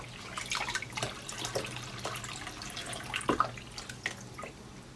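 Water runs steadily into a warm bath being drawn for a hedgehog, with scattered drips and splashes over the continuous flow, fairly close and moderate in level.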